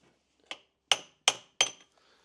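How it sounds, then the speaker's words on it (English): A coolant system part on a BMW E39 5 Series is tapped into place with a metal extension, four sharp metallic taps close by, the last three louder and evenly spaced. "I'm gonna give it a tap or two."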